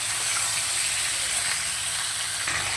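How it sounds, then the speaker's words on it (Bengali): Mixed vegetables tossed into hot oil with panch phoron for a Malabar spinach and fish-head chorchori, giving a close, steady sizzle and hiss that stays even as they are stirred. "এবার সবজিটা দিয়ে দেবো। ভালো করে নেড়ে নেব।"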